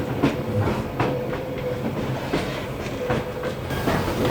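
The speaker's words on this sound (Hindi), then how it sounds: "अभी मेरे सामने बिल्कुल ट्रेन जा रही है" A train passes close by on the Hai Van Pass in Vietnam, a continuous loud rumble with rhythmic clickety-clack of wheels over rail joints throughout.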